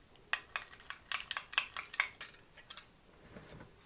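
A spoon clinks repeatedly against a bowl while salad dressing is mixed with salt and black pepper, a quick run of bright metallic taps that slows and fades near the end.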